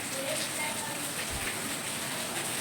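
Steady rain falling on surfaces, a constant close patter with a brief low thump partway through.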